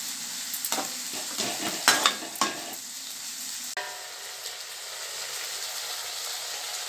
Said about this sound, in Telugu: సో ఈలోపు గోచిక్కుడుకాయ కూరని కలుపుదామని